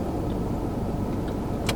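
A car passes by outdoors, heard as a steady, close road rumble and engine hum that fills the short stretch, with no voices.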